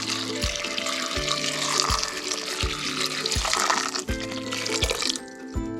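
Water, three and a half cups, pours steadily into a pot of broken dried red chilies, a continuous splashing stream with a regular rhythmic thumping beneath it and no talk.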